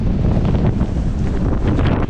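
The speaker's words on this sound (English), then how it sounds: "It is super windy up here." Strong wind buffets the microphone on a hilltop viewpoint on the Isle of Skye, a loud continuous roar and rumble throughout.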